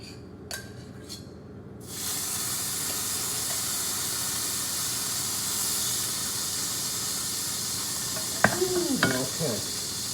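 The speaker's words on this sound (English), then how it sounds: "the pan's hot. I don't know if you can hear the crackling" Beef grease sizzles and crackles in a very hot pan, a continuous hiss that holds steady, with a few sharp clinks of a utensil on the pan near the end.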